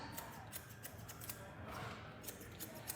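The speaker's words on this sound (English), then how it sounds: "Then I'm going to be also using my blending scissors." Rapid, quiet snipping of scissors cutting hair, a regular series of crisp metallic clicks close by with no talking.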